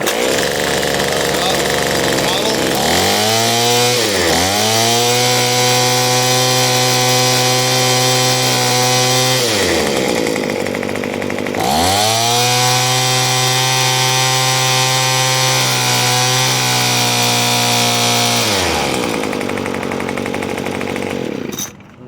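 Troy-Bilt TB430 two-stroke leaf blower engine at full choke, loud and close: it catches, revs up, settles into a steady high whine, dips, then revs again, running continuously for about twenty seconds before cutting off.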